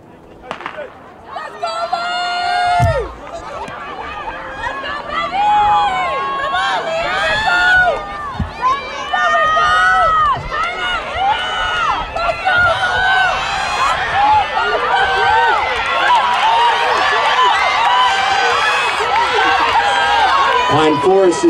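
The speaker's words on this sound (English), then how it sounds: "Let's give a round of applause for the..." Spectators at a girls' 200 m dash at an outdoor high school track invitational cheer and shout loudly, with dense, sustained crowd noise swelling over about twenty seconds and a voice calling over it early on.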